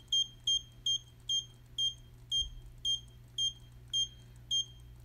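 Short electronic beeps from an Arduino buzzer repeat at an even, moderate pace, about two per second, clear and close against a quiet background.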